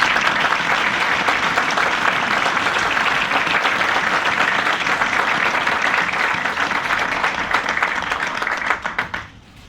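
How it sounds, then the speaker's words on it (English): Audience at a community health event for La Clínica de la Raza bursts into loud, sustained applause, dense clapping filling the room for about nine seconds before tapering off into scattered claps. "So a round of applause."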